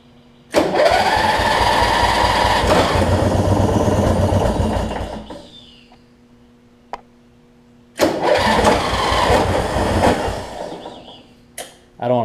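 A Weed Eater riding mower engine cranks and catches into a loud, rough idle for about five seconds, dies away, then cranks and runs again in a second burst, heard up close with no talk.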